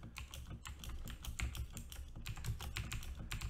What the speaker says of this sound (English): I'm going to type the whole alphabetic.